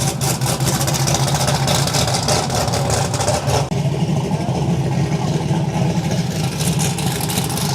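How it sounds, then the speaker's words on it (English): A tuned BMW M3 E46 with its S engine and a much bigger turbo runs loud and close at a Swedish street car event, a steady engine roar that shifts tone partway through, with no voices. "BMW M3 E46, still have the S engine in this one, and much bigger turbo for this year."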